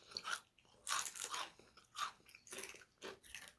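Crunchy kettle cooked potato chips bitten and chewed close up, several loud crisp crunches in uneven bursts with short pauses between, no talking.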